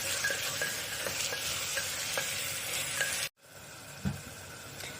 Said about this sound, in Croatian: Lijepo premiješati i pustiti da se sve još malo krčka.